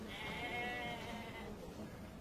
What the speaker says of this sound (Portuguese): Essa ovelha é cega.